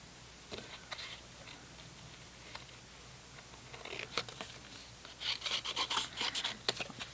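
Scissors cut out a paper card, with soft irregular snips and rustles close by, growing into a quicker run of crisp cuts toward the end, with no talking.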